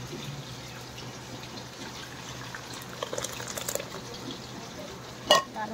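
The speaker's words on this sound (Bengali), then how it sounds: "এই যে মাছ ভাজা বসিয়ে দিয়েছি" Fish frying in a pan on a home kitchen stove gives a faint, steady sizzle throughout, with a few soft clinks of utensils and a brief sharper knock near the end.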